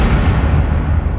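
Destructive blast in Chinese territory rendered as a sound effect: a loud, sustained low rumbling boom with heavy bass, filling the whole moment without any voices.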